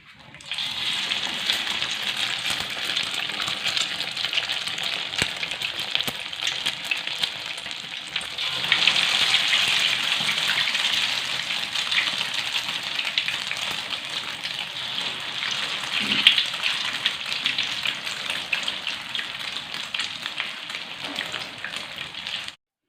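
Egg-dipped stuffed tofu, filled with chicken, fries in hot oil with a continuous dense crackling sizzle, close and fairly loud, swelling slightly partway through as more pieces go in, no talking.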